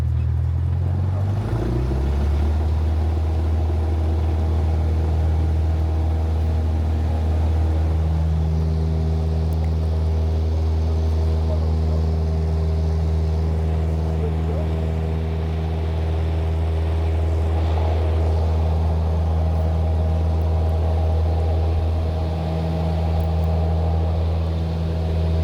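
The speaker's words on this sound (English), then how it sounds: "So we are flying in Cessna 172 today. It is a 4-seater, single engine, fixed wing" Inside the cabin of a Cessna 172 Skyhawk, a four-seat single-engine fixed-wing plane, a loud, steady propeller and engine drone fills the space, with the pitch shifting early before holding constant for the rest of the flight.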